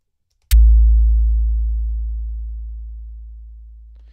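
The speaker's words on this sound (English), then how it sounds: "I resampled just some tones using the snare, E-Snare instrument." A single synth tone resampled from a Bitwig E-Snare instrument at note A1 starts with a sharp click and then holds as a deep, pure low hum. It fades slowly over about three and a half seconds before cutting off.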